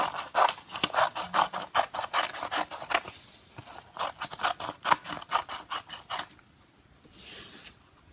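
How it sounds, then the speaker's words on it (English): Scissors snip steadily through paper while a rug shape is cut out for a first grade craft, a fast run of crisp close cuts that pauses and then ends with a few softer rustles. "we are going to cut out our rug shape just like we cut out our animal"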